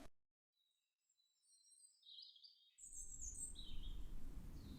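Birdsong in a summer garden: several high, tweeting calls come and go, first alone in near silence and then set against a steady low outdoor rumble that rises in the second half.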